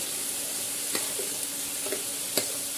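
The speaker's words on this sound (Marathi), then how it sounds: "आणि त्यांना आपल्याला छान एकत्र करून घ्यायचं, म्हणजे ते मिरचीचं पेस्ट सगळ्या बटाट्यांना लागेल" Potatoes coated in chili paste being stirred and tossed in a hot pan: a continuous loud sizzle with a few distinct scraping strokes of the spoon spaced about a second apart, close and clear.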